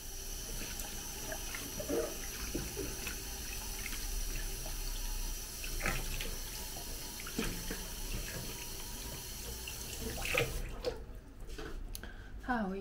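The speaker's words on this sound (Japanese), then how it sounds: "もうお湯にドボンします。" Running warm water splashes steadily as a knitted shawl is dunked in for blocking, a continuous close wash of water that ends with a few brief handling sounds.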